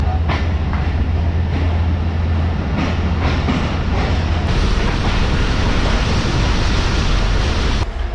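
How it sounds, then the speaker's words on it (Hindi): The Pak Business Express passenger train runs at speed through a station without stopping, a loud continuous roar of wheels on rails heard from inside, with periodic clatter and no talking. "ट्रेन स्पीड में ट्रेन ने स्किप किया झानिया रेलवे स्टेशन को।"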